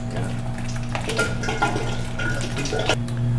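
Gear oil drains from the front differential of a Dana 44 TTB axle under a Ford F150, a steady close trickle and splash into a pan under ongoing workshop hum, with no one speaking.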